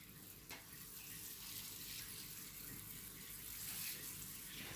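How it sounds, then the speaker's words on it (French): Water sprays onto the decorations of a monitor lizard terrarium for a Varanus acanthurus, a soft, continuous hiss that stays faint and even throughout. "J'humidifie bien les décorations. Comme ça, il reste de l'eau dessus."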